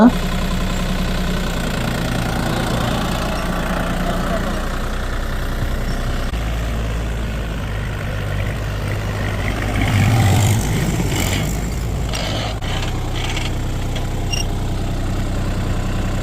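A tractor engine runs steadily through ploughing, a continuous low diesel rumble that swells briefly near the middle, with a voice speaking over it.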